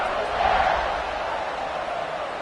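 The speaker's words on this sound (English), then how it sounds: "this crowd is buzzing after that last score" A football stadium crowd keeps up a steady, dense roar after a score, a broad wash of many voices that swells slightly early on and then holds level without pause.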